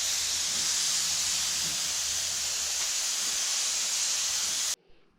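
A Harbor Freight paint spray gun hisses out a steady, loud, broad spray at 30 psi for several seconds, then cuts off abruptly, leaving only faint room noise.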